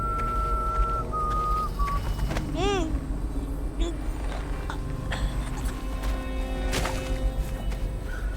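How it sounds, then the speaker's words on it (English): A character whistles a short, wavering tune in the Dishonored video game, against ambient game noise and mechanical sounds, with a few rising-falling whistled notes that are clear but not loud, while people talk over it. "Why is she whistling?"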